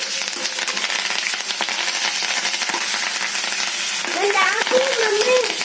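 A handful of curry leaves sizzles and crackles loudly in hot oil while being stirred for karam podi spice powder, a steady close frying hiss, with a brief voice near the end.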